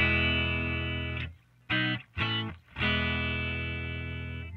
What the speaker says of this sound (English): Right now I have the polarity set to normal, so they're both in phase with each other.